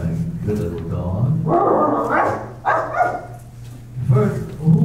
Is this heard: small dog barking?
yes